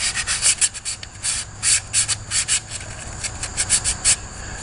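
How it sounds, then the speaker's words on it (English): Sandpaper rubs over the wooden handle of a ditch axe in uneven, rhythmic strokes. Each stroke makes a soft, close rasp, and there are short pauses between bursts. No voices are heard. "But I'm gonna give it a real good sanding."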